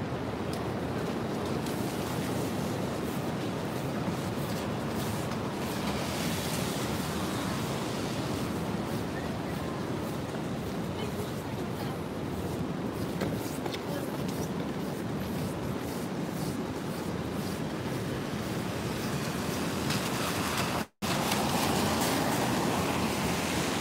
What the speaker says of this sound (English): You know the wind is picking up.